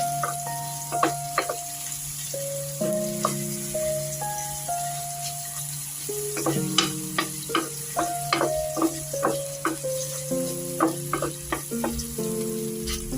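Vegetables with tomato sautéing in a pan for a Filipino ginisang gulay with chicken liver, a steady close sizzle with repeated stirring clatters under background music.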